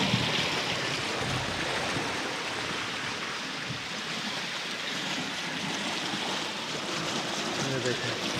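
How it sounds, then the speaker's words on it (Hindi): Tubewell water gushing steadily into crop fields in a village, a continuous broadband rush of flowing water that stays loud and even throughout with no pauses. "ये देखें पानी आ रहा है फसलों को लगने के लिए।"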